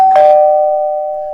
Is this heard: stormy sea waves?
no